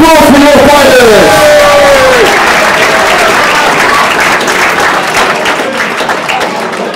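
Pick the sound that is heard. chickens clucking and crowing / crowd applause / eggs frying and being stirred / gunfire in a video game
crowd applause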